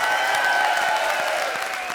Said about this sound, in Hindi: जोरदार तालियां बजाओ इसके लिए